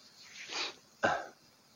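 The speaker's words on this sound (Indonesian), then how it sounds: "Aduh, maaf, mau bersin nih." A single person sneezes twice, a soft build-up followed by a sharp, close burst, with no talking around it.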